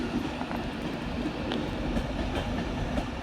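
A Class 185 train moving through Manchester Piccadilly station, heard as a steady, loud rumble of wheels on rails with faint periodic clicks across the whole stretch and no voices.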